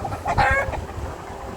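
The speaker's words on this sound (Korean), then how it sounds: "닭을 키우는 장면이고요" Free-range country chickens on a rural farm behind a hanok café, clucking in a close, busy flurry of short calls with rooster-like tones, fairly loud with no voices over it.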